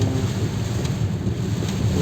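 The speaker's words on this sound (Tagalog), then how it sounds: "ulan na ito" Heavy rain and wind during Typhoon Kristine roar as a dense, constant wash of noise with low rumbling and buffeting, loud and close, with no voices.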